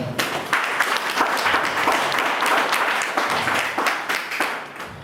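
A room full of people at a school gathering claps enthusiastically, a loud, close burst of irregular hand claps that holds steady for several seconds.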